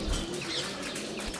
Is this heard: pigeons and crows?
yes